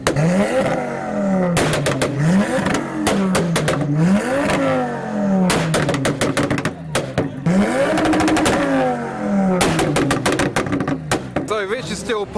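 A modified car at a UK car meet revs repeatedly, its exhaust crackling with rapid pops and bangs between rising and falling engine notes, loud and nearby, with crowd voices underneath.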